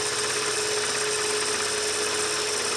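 Metal lathe taking a fine finishing cut of about 0.2 millimeters, a continuous steady whirring hum with a thin high tone held throughout, close and even.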